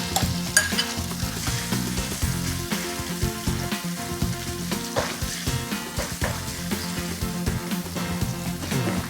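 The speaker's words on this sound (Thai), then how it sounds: "พอน้ำมันร้อนนะครับเราจะเอาหมูที่เราหมักไว้นะครับลงไปผัดเลย" Marinated pork stir-fried in hot oil in a wok, a loud, continuous sizzle with busy, rhythmic scraping and clattering of the spatula close by, no voices.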